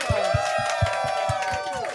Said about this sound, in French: Un tonnerre d'applaudissements pour Babouchka Babouche.